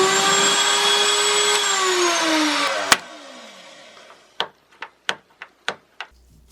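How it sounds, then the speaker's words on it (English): A router mounted on a Kreg precision router table runs with a loud, steady high whine that winds down after about three seconds, followed by a series of sharp, close clicks or taps. "go ahead and plug the router into the switch"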